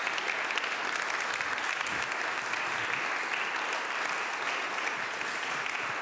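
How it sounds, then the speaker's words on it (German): Warm audience applause welcomes a speaker onto the stage at a lecture forum, a steady, full round of clapping from a seated crowd lasting throughout, with no talk. "Und wir möchten ihn bitte erstmal mit großem Applaus rausholen."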